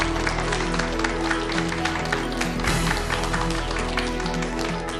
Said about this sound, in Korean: 송인섭 교수님 큰 박수로 맞아주세요.